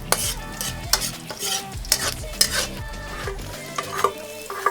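Garlic hits hot oil in a pan with paprika, giving a bright sizzle while a spatula stirs and scrapes in repeated strokes, close and loud, with no talking.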